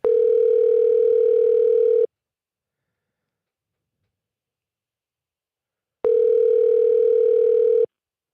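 Telephone dial tone while placing a call: a steady, clear electronic tone sounding for about two seconds, silence for four, then sounding again for nearly two seconds, alone with no voices.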